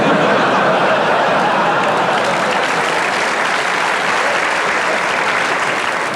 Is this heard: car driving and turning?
no